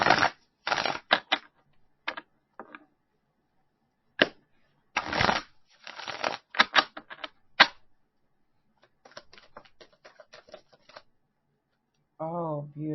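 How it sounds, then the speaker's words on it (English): Tarot cards being shuffled by hand in quick riffling bursts and shorter flicks and taps, close and crisp, with quiet gaps between them and a voice talking near the end. "bear with me here as I shuffle and get these out"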